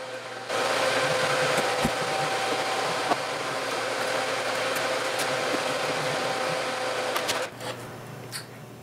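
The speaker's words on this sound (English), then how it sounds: "Got this nice fan, this smoke absorber here, really helps with all that solder so you don't breathe it in." Solder smoke absorber fan running beside a Commodore 64C board, a steady loud whirring hum that starts abruptly, holds evenly with faint clicks, then cuts off near the end.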